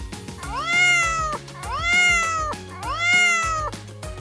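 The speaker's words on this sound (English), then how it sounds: "That sound is from a cat." A cat meows three times, close and clear, each call a drawn-out rising and falling cry separated by short pauses.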